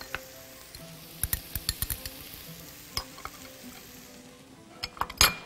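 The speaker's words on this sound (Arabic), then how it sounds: "يلا هنقلب وهنزل الخرشوف" Sliced artichoke is stirred in a frying pan, giving a soft sizzle broken by a run of sharp utensil clinks and scrapes against the pan, ending with a louder clatter.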